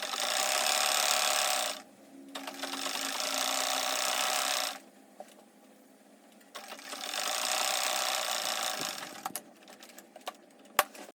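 A sewing machine stitching fabric for a halter neck circle flare dress runs in three sustained bursts, loud and close, separated by short pauses filled with faint handling noises.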